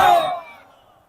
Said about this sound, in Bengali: খুব জোরে একটা তাকবীর দেন